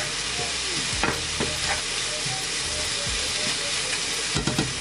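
Cauliflower fried rice sizzles in a pan with sesame oil, a steady hiss under a few firm scraping stirs and knocks, close and loud.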